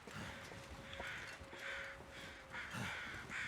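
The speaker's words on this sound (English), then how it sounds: "Those crows indicate a dead thing." Crows caw in the video game The Long Dark, several harsh calls in an irregular sequence at moderate distance over a quiet windy backdrop.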